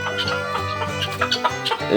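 Chickens, including crested hens, cluck in a poultry yard, with overlapping throaty clucks and short squawks rising in a busy, close, continuous chatter.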